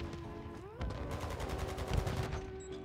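Rapid bursts of gunfire in the video game Modern Warfare 2 during a ranked Control match, dense repeated shots over a steady game hum, fairly quiet in the mix.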